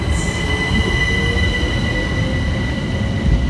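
A Southeastern Class 376 electric train rolls through Waterloo East, a loud, steady rumble of wheels on rail with sustained high metallic squealing tones, close by and without voices.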